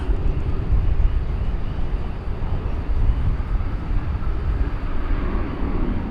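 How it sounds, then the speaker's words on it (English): An American Airlines Boeing 737-800 departs DFW Airport in the evening, a steady, loud broadband jet roar with heavy low rumble that holds for the full stretch without fading. "Aircraft departure. It's American Airlines 737-800."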